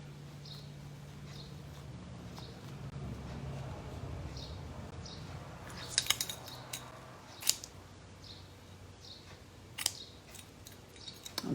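Scissors cut card for handmade baby cards: a quiet run of short, regular snips that turns into a few sharper clicks of the blades toward the end, with no voices heard.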